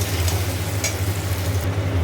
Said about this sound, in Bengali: এবার এটা ভালো করে কষানো হোক